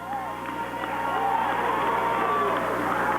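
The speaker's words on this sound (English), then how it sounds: "Let's give these parents a round of applause." A gym crowd at a high school boys basketball senior night roars with sustained cheering, whoops and clapping for the seniors' parents, a dense, loud wash of voices filling the space.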